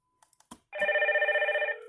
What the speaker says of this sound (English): All we have to do is push the doorbell and find out